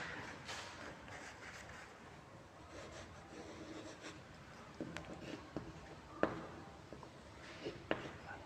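Faint, close scratching of a pen or pencil on paper as dimension notes are written onto an orthographic projection drawing, with soft strokes and a few light taps toward the end, under low room noise.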